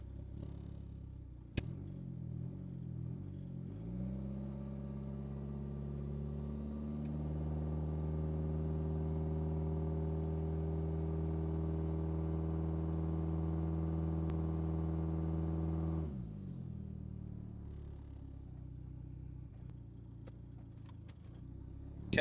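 A turbocharged GSX car engine idles, then climbs into a long, steady, rising rev under load for about twelve seconds before dropping back to a low idle, fairly close and with no talk.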